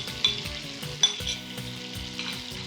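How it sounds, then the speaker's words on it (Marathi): Spiced masala sizzles in hot oil in a pan while brinjals are pushed to one side, with a steady crackling hiss and a few louder stirring clinks and scrapes, close and clear without talk. "आणि हा जो मसाला उरलेला आहे हा या तेलामध्ये घालूया."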